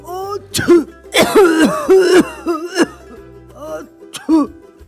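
A voice delivers several rough coughs and throat-clearing bursts in uneven clusters, close and fairly loud, with a few pauses between.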